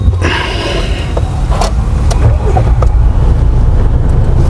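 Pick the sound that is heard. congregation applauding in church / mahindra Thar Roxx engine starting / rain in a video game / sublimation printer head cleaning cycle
mahindra Thar Roxx engine starting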